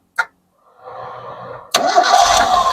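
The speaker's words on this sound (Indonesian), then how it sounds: "Kita coba starter. Tanpa digas ya ini ya." An old Ford Laser car engine is cranked with the starter and no throttle: a short click, then a brief whirring crank, then the engine catches and settles into a loud, rough idle close by.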